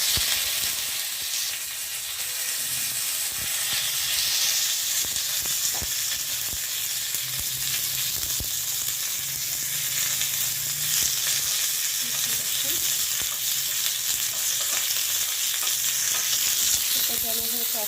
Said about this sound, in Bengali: সর্ষাটা দেওয়ার সময় একটু ছিটবে, একটু যেন একটু লো হিটে রাখবেন।